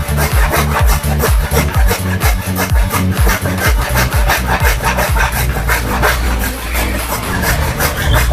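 A Hasston Prohex 20-inch hand saw rips through wood in fast, regular strokes, each rasping push and pull loud and close, with no talking.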